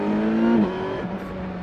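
A Kawasaki Versys 1000 SE touring motorcycle accelerates hard, its engine note climbing in pitch, then dropping on a gear change before pulling again, loud and close to the rider.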